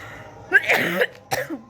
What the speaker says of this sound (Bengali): কাশি হচ্ছে দেখো